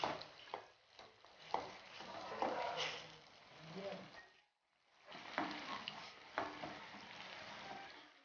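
Faint sizzling and stirring as ingredients are sautéed in a hot pan while cooking peerkangai thokku, a soft frying hiss with scraping strokes that pauses briefly midway and then resumes.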